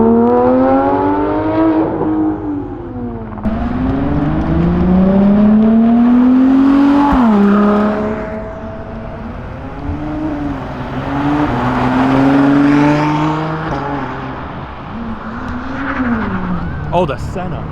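A McLaren Senna supercar roars past loudly and close, its engine rising and falling through several sharp gear-changing revs, with people's voices talking over it.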